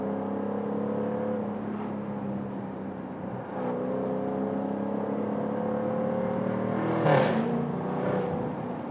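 A 575 HP Jaguar F-Type R Roadster with a V8 engine hums at a steady low drone that swells slightly, with a brief sharper rev near the end, heard alone without talk.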